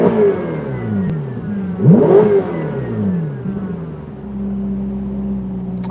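A Ferrari 488 GTB's engine revs sharply, climbing in pitch to a peak before falling back to a smooth, steady idle hum, loud and close with no talking.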